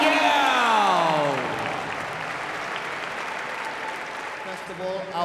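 Applause from an audience at a martial arts tournament rings out for the weapons grand champion, loud at first over an announcer's voice, then settling into sustained clapping.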